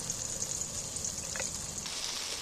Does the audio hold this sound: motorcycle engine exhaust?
no